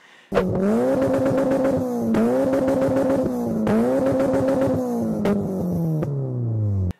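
A loud car engine holds high revs and stutters against the rev limiter in rapid repeated bursts, then drops in pitch as it winds down.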